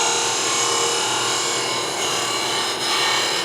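A steel blade shear-scrapes bumps off a wooden coffee scoop, giving a steady, close, hissing rasp that keeps going without a break and with no talking.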